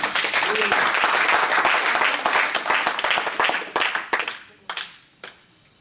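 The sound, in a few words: church congregation clapping hands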